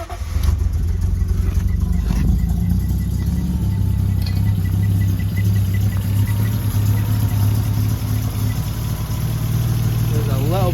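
A Lexus IS200 Sport engine running a little rough with oil still in the cylinders, a loud steady low idle drone with slight unevenness, heard up close with a voice talking over it.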